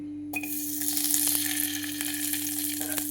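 Homemade cow ghee heating in a pot for tempering while cooking lapshi, giving a steady, close sizzle and frying crackle with a few small clicks, under a constant low electrical hum, no talking.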